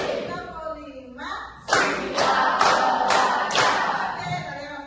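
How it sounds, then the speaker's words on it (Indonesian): Schoolchildren in an Indonesian classroom clap together in a counting clap game, a sharp burst of unison claps landing in a quick rhythm of about four or five beats after a short spoken lead-in. "Tepuk lima."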